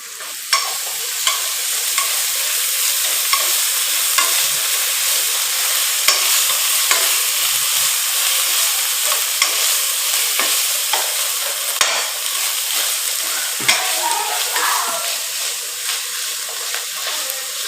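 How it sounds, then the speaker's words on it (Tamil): Goat spleen sautéing in hot oil with ginger garlic paste, producing a loud, continuous crackling sizzle nearby, punctuated by regular sharp clicks of a spoon stirring against the pan. "நல்லா எண்ணெயில் வதங்கிட்டு பிடிச்சி இஞ்சி பூண்டு பேஸ்ட்"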